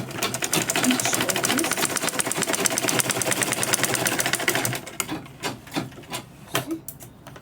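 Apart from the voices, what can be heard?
sewing machine top stitching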